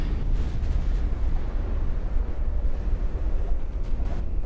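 A flash fire erupts aboard a warship in the naval game Ultimate Admiral: Dreadnoughts, giving a loud, sustained low rumbling roar, like a continuous explosion, with no voices.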